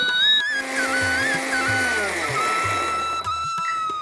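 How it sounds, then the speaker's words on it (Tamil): A mixer grinder whirs loudly as it grinds tomatoes into chutney, a steady high motor whine with shifting pitch and faint rattling of the jar, continuous and close with brief dips near the end. "இதை நம்ம நைஸாக அரைச்சி எடுத்துன்னு வரலாம்"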